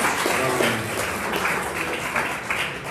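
Audience applause from a great crowd at an indoor book launch conversation event, a steady wash of clapping throughout at even, moderate loudness with no talk over it.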